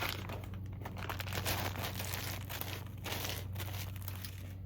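Continuous crinkling of thin plastic, close and fairly quiet, with irregular rustles and crackles throughout.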